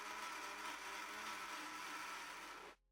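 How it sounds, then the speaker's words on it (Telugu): An electric mixer grinder whirs steadily and loudly while blending green chili powder and salt for tomato pickle, then cuts off abruptly near the end. "పచ్చికారాన్ని యాడ్ చేసుకొని ఇందులోనే 50 గ్రామ్ సాల్ట్ వేసి మొత్తాన్ని లైట్గా ఇలా గ్రైండ్ చేసుకోండి"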